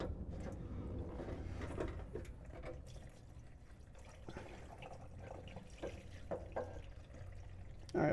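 Diesel fuel drains from a loosened fuel filter on a GM 3.0L Duramax engine with a faint, steady trickle and soft dripping that close off near the end.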